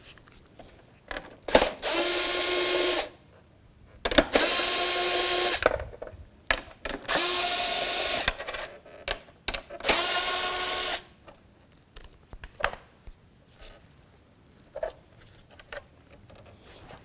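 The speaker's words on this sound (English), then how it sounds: "Now with a 10mm socket, we're going to disconnect 4 mounting nuts." A 10mm socket on a power tool runs off the mounting nuts of a 2007-2014 Cadillac Escalade high-mount third brake light, in four separate whirring bursts of about a second and a half each, with quiet pauses and small clicks between them.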